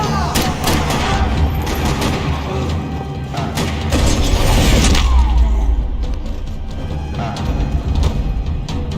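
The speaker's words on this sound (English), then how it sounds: "Another parking lot rattling with gunfire." Gunfire from the Max Payne video game in a parking lot shootout, a dense, continuous clatter of shots and booms mixed with game music, with a heavier burst midway.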